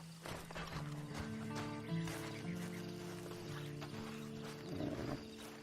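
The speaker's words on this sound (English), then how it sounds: "And you better get on this horse." In the video game Red Dead Online, a horse neighs and whinnies repeatedly while hooves clip-clop underneath, the calls layered over a steady soft background and a brief flurry of movement near the end.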